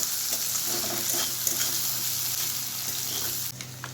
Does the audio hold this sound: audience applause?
no